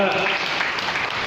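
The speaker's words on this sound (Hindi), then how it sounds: "एक बार उनके लिए तालियां बजाएं" Audience applause at a Hindi book launch ceremony, a brief burst of dense clapping that fills the hall at close range.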